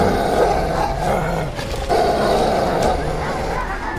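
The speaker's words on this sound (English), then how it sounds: "A large black wolf with blue eyes and pointy ears. It growled, baring its teeth." Low, rumbling wolf growl used as an audio drama sound effect for a large black wolf, sustained and close, with a brief dip midway before the snarl resumes.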